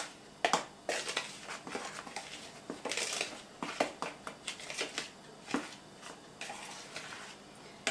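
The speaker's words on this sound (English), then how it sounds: "I'm just going to mix that a little bit, make sure it's all mixed good in the flour" Flour being mixed by hand with baking powder, salt and sugar for iron skillet cornbread gives close, dry scraping and crunchy stirring strokes in quick irregular bursts, with no talking.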